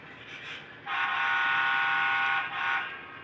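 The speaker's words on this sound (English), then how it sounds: "I'm just getting the other train started." A model train sounds a loud, sustained horn blast for about two seconds, close and alone over a low steady rumble, with a brief dip before it trails off.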